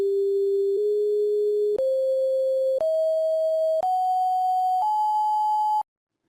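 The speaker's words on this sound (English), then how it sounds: "I'm going to play what the Leonard Horowitz solfeggio scale would sound like, just to give you a comparison using the same signal generator." A signal generator plays solfeggio scale tones as a series of six pure, steady sine tones, each lasting about a second and stepping upward in pitch, loud and clean with nothing else heard.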